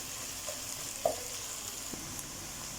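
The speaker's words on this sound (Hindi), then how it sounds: "इनको अच्छे से हम मिक्स कर लेंगे और इनको हम तीनों चीज़ों को सही से फ्राई करेंगे गोल्डन कलर आने तक" Ingredients frying in a pan for chicken karahi, a steady close sizzle with a few soft stirring clicks and scrapes over about three seconds, no talking.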